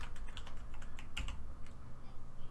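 Rapid keystrokes on a computer keyboard entering a login command, a steady run of close, crisp clicks with a brief pause near the middle, over faint background hum.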